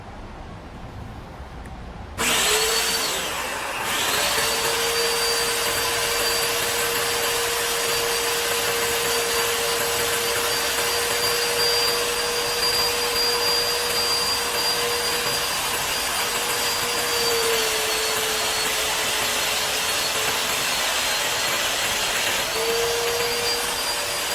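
A woodworking machine cuts a groove into a thin piece of wood. It gives a loud, steady high-pitched whine that starts abruptly and holds for over twenty seconds with a small dip partway through, and no one speaks.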